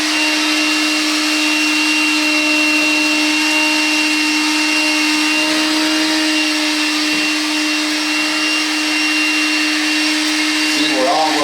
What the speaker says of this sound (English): We'll suck that sawdust up and see.